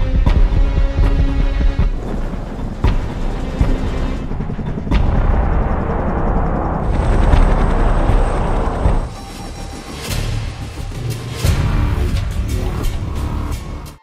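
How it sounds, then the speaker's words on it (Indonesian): A helicopter in a film flies over a large forest in Myanmar. It makes a deep, continuous throbbing rumble with heavy booming swells that rises and dips over the full stretch. "kini Wes diantar menggunakan sebuah helikopter untuk pergi ke lokasi yang terletak di tengah hutan besar Myanmar"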